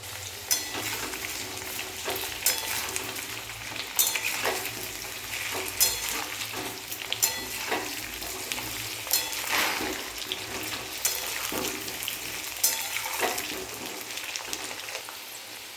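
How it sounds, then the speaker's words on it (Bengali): Potatoes for aloo dum fry in a pan of hot oil, giving a steady, close sizzle broken by regular scraping strokes as a spatula stirs them every second or two. "আলুগুলোকে ধৈর্য ধরে অনেকক্ষণ ধরে ভাজতে হবে"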